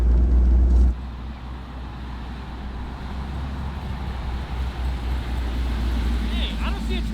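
A vehicle with an imprecise shifter driving in third gear, its low engine drone steady and close throughout, with a louder rumble in the first second before settling into an even cruise.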